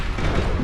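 A single heavy high-impact gunshot fired in the video game Mass Effect 2, a deep booming blast that fills the short moment, loud and close with no talk over it.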